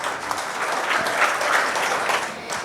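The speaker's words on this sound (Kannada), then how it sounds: "ಅವರಿಗೆ ಮತ್ತೊಮ್ಮೆ ಜೋರಾದ ಚಪ್ಪಾಳೆ." An audience at a vocal jugalbandi concert breaks into sustained, loud applause, many hands clapping in a dense, even wash.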